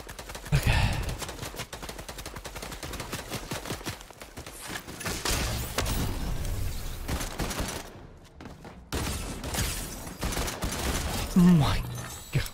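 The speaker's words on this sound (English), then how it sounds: "These pistols are too good." Rapid pistol gunfire in a video game, bursts of sharp shots fired in quick succession with brief pauses, loud and close, mixed with in-game mechanical clatter.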